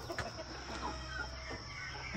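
Chickens cluck on a small farm in Ghana, several short clucks and soft calls at close to moderate distance over outdoor background noise.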